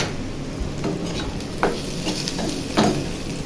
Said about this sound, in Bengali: এই দেখুন আমার ভাজাটা হয়ে গেছে